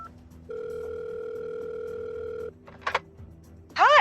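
Steady telephone dial tone holds for about two seconds, then brief electronic beeps and a chirping ring follow as a woman phones her father; no speech is heard.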